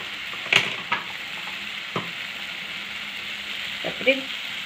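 Bori lentil dumplings frying in a pan for bottle gourd curry, with a steady sizzle and a few clinks and scrapes of stirring.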